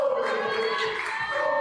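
An Irish crowd cheers at a women's volleyball third/fourth place match in the Five Nations, a sustained, fairly distant roar of many voices that swells and holds throughout.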